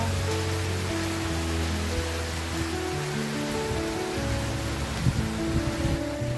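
Heavy evening rain falls steadily in a dense, even hiss with a low drumming underneath, continuous and close, with no talking.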